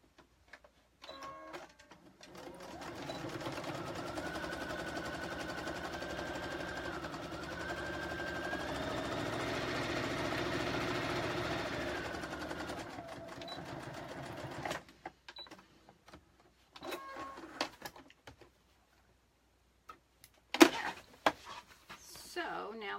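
A sewing machine stitches fabric for a card holder with a steady, close mechanical whir that lasts over ten seconds. It stops and is followed by scattered handling clicks and a voice talking.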